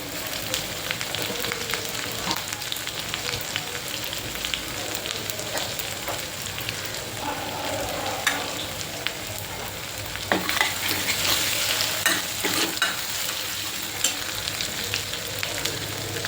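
Asafoetida sizzling in hot oil in a pan while being stirred, for a Malvani-style black pea usal: a steady close crackle with scattered spoon scrapes and pops.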